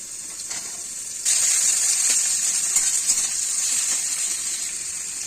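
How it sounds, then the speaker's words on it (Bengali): Potatoes frying in hot oil with black cumin seeds, a constant bright hiss that jumps louder after a second as more goes into the pan, then sizzles on steadily up close. "প্রথমে এটাতে কালো জিরা দিয়ে দেবো আগে আলুগুলো ভেজে দেবো"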